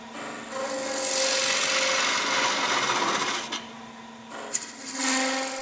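A skew chisel shaves spinning wood on a lathe, giving a loud hissing, scraping cut that runs for a few seconds, stops, then resumes with brief knocks and short passes.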